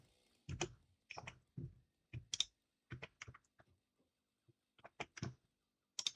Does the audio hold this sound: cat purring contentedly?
no